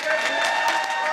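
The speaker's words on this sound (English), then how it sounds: "Amid cheers and applause," A crowd at the South Carolina Capitol cheers and applauds over the removal of the Confederate flag, a dense wash of clapping and voices with a news voice talking over it.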